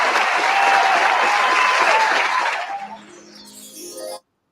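A hand-clap sound effect plays on a live talk show: a dense burst of crowd-like clapping that fades after about three seconds into a few brief tonal electronic sounds before cutting out.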